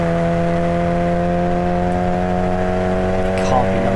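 A Mazda MX5 race car at Snetterton circuit holds a loud, steady in-car engine drone with strong constant tones throughout, and faint higher sounds appear near the end.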